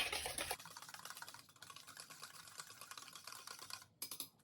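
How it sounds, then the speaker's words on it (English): Almond lemon muffin batter whisked in a bowl, a rapid run of light clicking strokes with brief pauses, quiet and close, no voices. "Now whisk it all together again"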